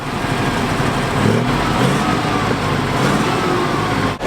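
Land Rover 101 engine idling while it warms up, a steady low rumble running throughout, close and fairly loud, with no talk.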